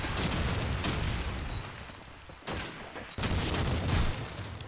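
Gunfire in a competitive first-person shooter match comes in dense, overlapping bursts and booms with brief gaps between them, played at moderate loudness with no speech.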